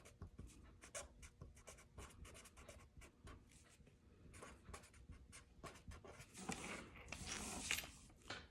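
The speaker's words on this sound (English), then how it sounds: "And then I'm going to write some names in here." Pen or pencil writing names on paper, a close series of short scratchy strokes in irregular bursts, growing busier and louder toward the end, with no talking.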